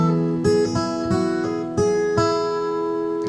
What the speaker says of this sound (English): We're going to finish by just picking the second string.